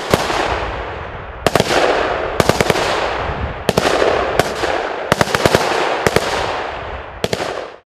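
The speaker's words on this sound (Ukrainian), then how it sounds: "стріляли з автоматів Калашникова та гранатометів" Bursts of rapid Kalashnikov rifle and grenade launcher fire crack out in repeated volleys during territorial defense battalion training in Ivano-Frankivsk region, loud and sharp over a steady background roar, roughly every second or so.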